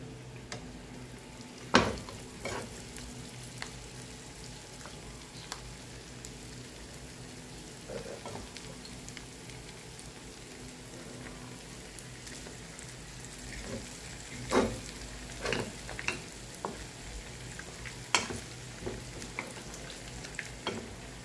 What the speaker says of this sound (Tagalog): Fried natin yun isa-isa.